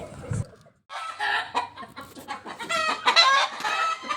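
Several egg-laying hens cluck and call over one another in a busy, close chorus, with a rooster crowing among them.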